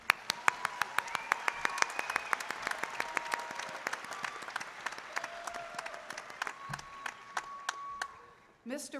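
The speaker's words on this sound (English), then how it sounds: "A round of applause for the students of the College of Arts and Science" Scattered applause at a university spring commencement ceremony for the College of Arts and Science graduates, distinct individual claps ringing out over a continuous backdrop of crowd clapping in a large reverberant venue, with a voice briefly audible.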